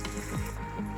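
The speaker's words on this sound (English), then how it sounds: "I have my oil in my skillet and it's hot, so I'm gonna put them in there" Chicken sizzles faintly in hot oil in a skillet, a soft continuous frying hiss with a couple of small tonal scrapes, brief and fairly quiet.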